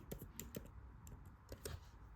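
Computer keyboard typing a short phrase, a handful of quick, light key clicks at an uneven rhythm, close and fairly quiet.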